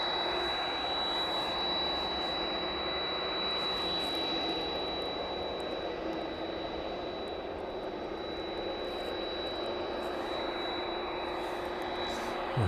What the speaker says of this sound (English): Head-on shot of the 767 as it starts up this evening.